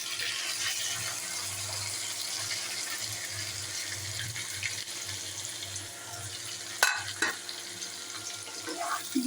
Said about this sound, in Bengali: আগে থেকে ভেজে রাখা পটল চিংড়ি মাছ আলুগুলো ঢেলে দেব।